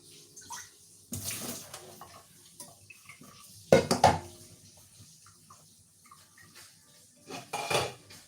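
A metal saucepan is knocked and set down in a home kitchen, with a few sharp clanks and rattles between quieter handling noises and a soft watery wash, nearby and without talk.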